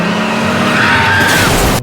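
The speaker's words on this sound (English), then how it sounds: "Holly suddenly slammed on the gas pedal, causing the car to crash" Car engine roaring and tires squealing as it accelerates hard in a film scene, a loud rising skid that cuts off abruptly at the end.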